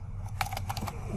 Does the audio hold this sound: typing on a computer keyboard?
yes